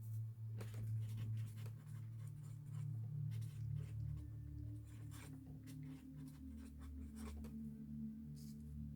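A pen writing on paper during a release and manifestation ceremony: faint, close scratchy strokes in short irregular bursts over a low steady hum, with no talking.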